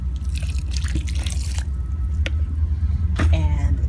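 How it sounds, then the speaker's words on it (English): Water is poured onto a freshly transplanted bell pepper plant in a garden, making wet splashing, trickling and dripping sounds with a few soft irregular splats, close by and with no talking. "It's just a bell pepper, so we're going to give that a little water."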